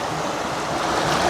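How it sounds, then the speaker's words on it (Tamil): Water flowing steadily through flowers and leaves in a small canal stream in the Vavuniya forest countryside of Sri Lanka, a close, continuous rushing wash with no voices. "இந்த பூக்கள் அந்த இலைகளோட தண்ணி போகிறது எப்படி இருக்குன்னு"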